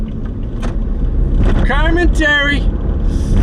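Car interior while driving, a loud steady low road and engine rumble with wind buffeting, and a voice talking over it.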